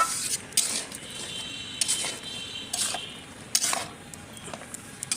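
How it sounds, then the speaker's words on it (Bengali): Red lentil dal cooks with wild taro leaves in a pot as a spoon stirs it, producing uneven scrapes and knocks against the pot over a soft bubbling background. "একটু নেড়ে চেড়ে দেই।"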